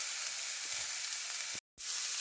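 Peppercorn steak with vegetables hisses in a hot pan in a steady, close sizzle, cut by a brief moment of silence before the frying resumes.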